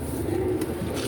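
A pair of Teddy pigeons coos softly and closely, a low, throaty bubbling call over a faint background hum, lasting about a second.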